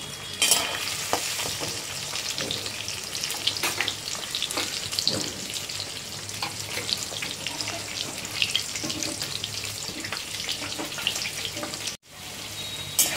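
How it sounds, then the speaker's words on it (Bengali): Salted potatoes fry in a pan with a continuous close sizzle, broken by the scrape and clatter of stirring, with a brief drop in sound near the end and no voices. "আলুটা ভাজা হোক।"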